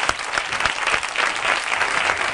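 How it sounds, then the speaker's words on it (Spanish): Lively applause from a studio audience greets a poker player guest on a TV show, with brisk, uneven clapping that runs throughout the short burst. "Un aplauso para mi maga favorita."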